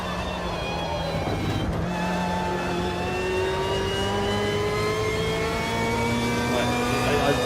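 A racing car engine in the Automobilista 2 sim with historical content revs steadily and climbs in pitch through the gears, loud and continuous, with a faint voice occasionally under it.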